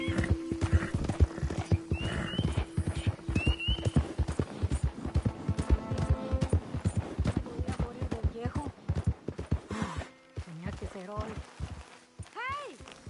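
A horse in the game Red Dead Redemption 2 neighs and whinnies several times while its hooves clip-clop steadily, with other game sounds and a person talking over it.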